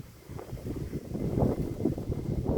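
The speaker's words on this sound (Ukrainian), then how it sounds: "Я ж кажу, що холодний вітер." Steady, gusty, cold autumn wind buffets the microphone, a low rumbling roar that swells and thickens toward the end, with no voices.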